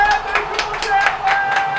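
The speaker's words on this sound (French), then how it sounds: "un maximum d'applaudissements pour Seb" A small group gives quick, rhythmic applause for Seb, with crisp claps and voices mixed in, lasting under two seconds.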